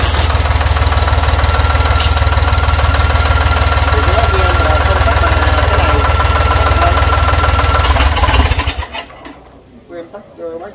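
A Yanmar 3T100 turbo diesel engine from 2006–2008 runs loud and close with a steady knocking idle for about eight seconds, then cuts out, leaving near quiet. Talk can be heard faintly.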